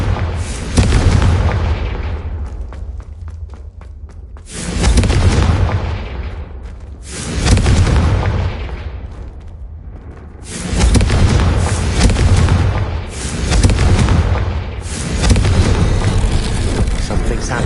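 Repeated booming fire-spell explosions in the video game Hogwarts Legacy, five or six heavy loud blasts every two to three seconds, each trailing off in a rumbling decay.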